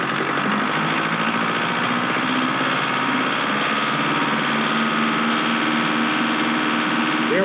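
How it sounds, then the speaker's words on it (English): A Ford 1920 tractor engine runs at a steady, raised speed near the PTO mark, sounding close and loud with a continuous mechanical hum and some rattle, with no talking over it. "Now, what I'm going to do is go on and take it up to 540 RPM."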